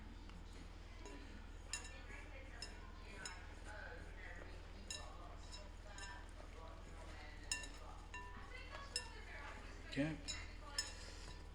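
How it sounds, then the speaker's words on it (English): Biscotti dough being mixed with an egg mixture in a bowl, giving light scattered clinks and scrapes against the bowl under steady background hum, with a person talking briefly. "And we're going to mix this together."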